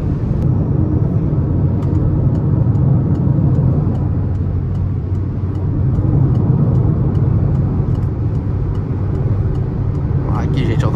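A 2022 Peugeot 208 Allure 1.6 automatic drives along a road and overtakes. A loud, steady drone of engine and road noise fills the cabin throughout, with voices talking over it.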